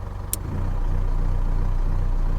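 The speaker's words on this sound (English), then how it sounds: "So that's idling normally." An Isuzu D-Max ute's diesel engine idling smoothly and steadily, close by, a low even rumble with a brief click near the start.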